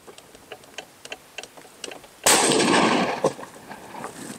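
A rifle round strikes a rifle-rated body armor plate in a single loud, sharp report that rings out and decays over about two seconds, after a stretch of quiet with faint regular ticking.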